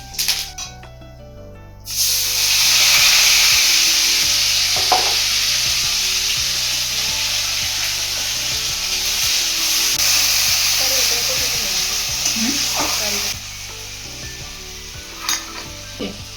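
Curry leaves hit hot oil with a loud, sustained hiss and crackle while cooking egg do pyaza, the sizzle surging after a brief quiet start and fading near the end, with small pops and clinks.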